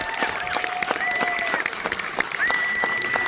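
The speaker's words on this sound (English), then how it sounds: "let's give a round of applause for our cast and crew" Audience at a film festival applauding the cast and crew: dense, continuous clapping with distinct nearby claps, while voices cheer and call out over it.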